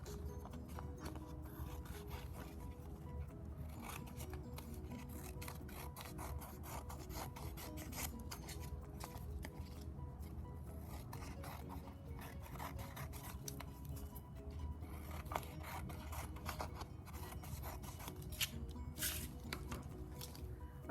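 Scissors cut around the edges of a paper print, giving a steady run of close, dry rasping snips and rustles that continues throughout without any talking.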